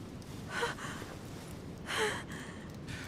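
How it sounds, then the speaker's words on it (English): A woman breathes heavily in two soft, breathy sighs or gasps about a second apart, faint and close against quiet background noise, with no talking, while she lies hurt in the story game The Council. "Her breathing is becoming stable and..."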